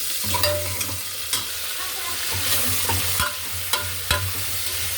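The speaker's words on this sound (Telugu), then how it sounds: "మామిడికాయలు వేగుతున్నాయి" Raw mango pieces fry in a tempering for mango dal, producing a steady close sizzle broken by several sharp spatula clacks and stirring scrapes against the pan.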